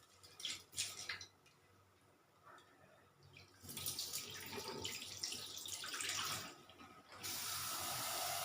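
Ragi vermicelli is rinsed under a running kitchen tap, with steady splashing water that swells louder midway and settles into a constant rushing flow near the end, with no talk.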